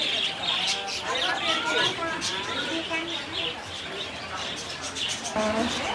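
Small birds chirp and twitter continuously in a bird park at Chang Puak Camp in Hat Yai, Thailand, a busy mix of close, overlapping calls with people talking nearby.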